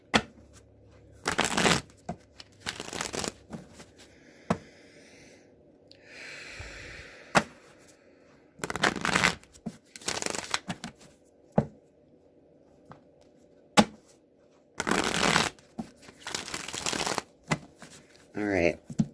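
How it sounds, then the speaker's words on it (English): A Rider-Waite tarot deck is riffled and shuffled in close, crisp bursts of card flutter, repeated several times with short pauses between and soft handling noises. "I'm going to draw 3 cards from the Rider-Waite deck to see if they speak."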